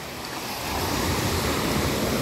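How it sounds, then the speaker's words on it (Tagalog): Ocean waves wash onto the shore at Clear Water Bay beach, a loud continuous surf roar building slightly, with wind buffeting the microphone. "Pakisarap pakinggan ng alon."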